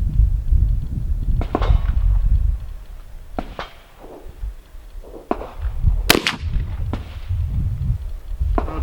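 A 9mm handgun fires into drywall, a handful of sharp, loud cracks spaced irregularly over heavy low rumble and background noise, one especially bright blast near the middle.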